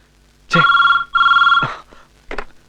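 A telephone rings nearby in two long, warbling bursts, followed by a brief third ring. No one speaks.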